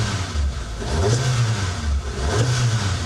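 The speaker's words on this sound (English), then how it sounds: "Okay, quick little rev for you here." A 1999 Suzuki Jimny Wide with a 1.3 liter engine revs up twice from idle, each rise swelling and falling back, loud and close with no talking.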